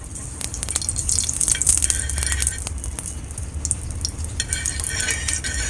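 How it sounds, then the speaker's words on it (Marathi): Ghee sizzles and crackles on a hot griddle for paratha, a bright continuous frying hiss with faint clinks of utensils, close and steady throughout. "थोडस घी तव्यावर मस्त असं"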